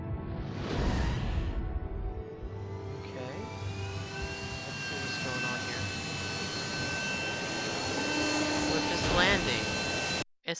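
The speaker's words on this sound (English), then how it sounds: "It's the landing sequence." Spaceship landing sequence in a video game, a sustained jet-like engine roar with whooshing sweeps and rising tonal whines running continuously at steady loudness before cutting off abruptly at the end, with game voices mixed in.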